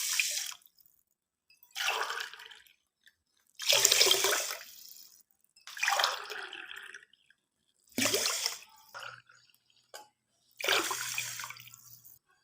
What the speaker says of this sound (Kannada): 4 ಗ್ಲಾಸ್ ನೀರು ಹಾಕ್ಕೊತಾ ಇದ್ದೀನಿ.